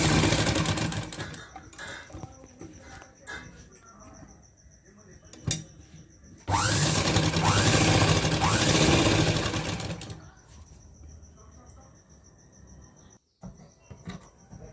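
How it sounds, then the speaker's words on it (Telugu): Sewing machine running in bursts to stitch around a fabric crop top, with a fast mechanical whir, a sustained loud run midway, and speech around it. "అలా సరి చేసుకుంటూ ఒక స్టిచ్ వేసుకోండి చుట్టూ"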